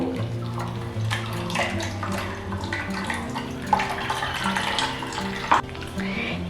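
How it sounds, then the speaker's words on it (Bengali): Watermelon paste strains into a mixing bowl, a continuous watery pouring and trickling with a few sharp clinks against the bowl, steady and close, no talk. "পেস্ট করার পরে এই মিশ্রণটি মিক্সিং বোলের মধ্যে দেওয়ার সময় এইভাবে একটু ছেঁকে নেব।"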